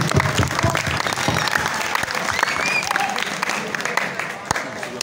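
Audience at a school farewell evening clapping, dense, sustained applause from a large crowd with scattered louder claps that taper slightly toward the end, no speech on top.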